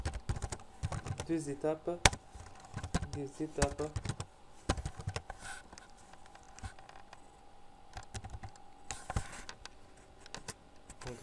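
Quick bursts of clicky computer keyboard typing patter close by in short runs and pauses, with someone speaking French over the first few seconds.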